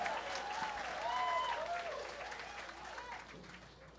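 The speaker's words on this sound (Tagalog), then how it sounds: "Lakas ng palakpak ah." A crowd at a senator's oath-taking ceremony applauds, a soft, distant wash of clapping that swells and fades under a voice speaking.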